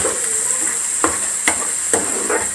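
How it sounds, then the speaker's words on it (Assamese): Onion paste sizzles steadily while frying in a pan, with a few sharp scraping stirs of a spoon breaking through the continuous hiss, close up and with no talking. "এতিয়া পিঁয়াজৰ পেষ্টটো অকণমান ৰঙচুৱা হোৱালৈ ধুনীয়াকৈ ভাজিব লাগিব।"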